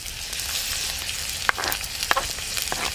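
Onion frying in a pan with green chilli and crushed ginger and garlic, a steady hissing sizzle broken by a few sharp utensil clinks and stirring scrapes.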